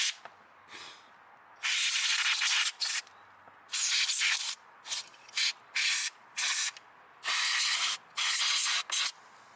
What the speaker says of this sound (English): use compressed air to blow away any dust or debris around it